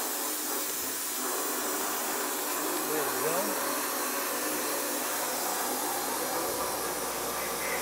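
A vacuum suction unit roars steadily and loudly throughout, a constant broadband hiss-like rush, while a voice briefly speaks over it.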